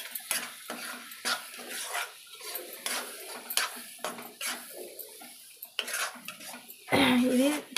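A spoon stirs fish curry with coriander powder in a pan, making intermittent scrapes and clinks of metal on the pan over a light sizzle, ending in a brief louder burst of noise.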